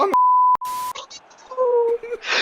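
A sharp electronic censor bleep, a steady pure tone lasting about half a second, cuts in loudly and is followed by a second shorter bleep, set amid a mobile football gaming session with voices around it.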